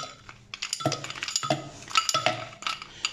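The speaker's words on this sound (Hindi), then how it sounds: "साथ ही डालेंगे हम इसमें आइस क्यूब्स।" Ice cubes drop into an orange drink, clinking sharply against the glass in several close, bright knocks over a few seconds.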